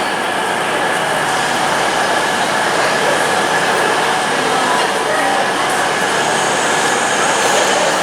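Class 800 trains 001 and 002 run through Reading station on the Great Western Main Line, making a loud, continuous rumble and rolling rail noise that stays steady throughout at close range.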